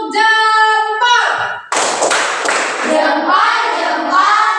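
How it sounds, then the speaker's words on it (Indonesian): A classroom group does a thumb clapping routine: loud, dense rhythmic claps and shouted chanting from many children, after a sustained sung or called note at the start. "Oke, kasih dulu tepuk jempol."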